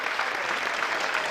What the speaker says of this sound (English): Please give a huge Millard North Mustang round of applause for our senior dance team and cheer parents and dance team and cheer members.